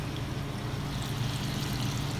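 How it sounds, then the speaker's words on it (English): Cauliflower is added to boiling water in a pot, a continuous bubbling, trickling, splashing wash with no voices. "Let's add our cauliflower little by little to the water."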